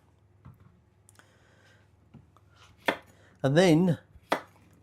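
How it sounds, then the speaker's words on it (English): A knife trims the ends off courgettes on a chopping board, a few sharp isolated thuds against a quiet background, with someone briefly talking between the cuts. "all we're going to do start with is just trim off the ends"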